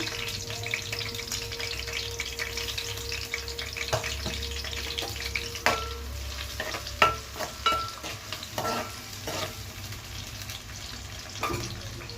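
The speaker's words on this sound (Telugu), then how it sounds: "ఉల్లిపాయలు కాస్త బాగా వేగాలి" Onions frying in a pan for mutton masala curry, with a steady low sizzle broken by clattering stirs and scraping spoon strokes, fairly close, no talk.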